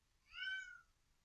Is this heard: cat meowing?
yes